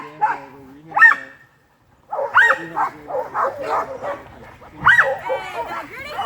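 A sled dog at a summer sled-dog camp in Juneau barks and yips repeatedly in short bursts nearby, with a brief pause, while people chat in the background amid busy kennel noise.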